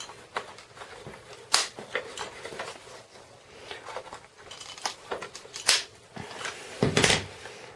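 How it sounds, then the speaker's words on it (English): A rounding corner punch rounding the corner edges of a paper card, several sharp clicks and clacks at uneven intervals amid quiet handling rustles, close and fairly faint. "I'm going to round these 2 edges. So I've just got a rounding corner punch"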